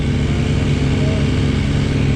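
A motorcycle engine drones loudly and steadily during a road tour of eastern Turkey, with a close, constant rumble that barely changes in level.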